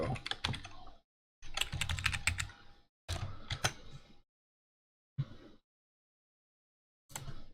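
Someone typing code on a computer keyboard in separate bursts of rapid, close-up key clatter, with dead-silent pauses between the bursts.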